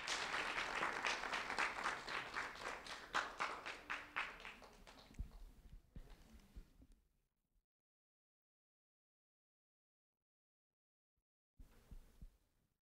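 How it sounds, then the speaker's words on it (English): A crowd applauds a first-grade student from North Fort Myers at a Sheriff's Office recognition: dense, steady clapping that thins and fades after about seven seconds, then silence, then a short second burst of claps near the end. "a round of applause for Joshua Zavacki"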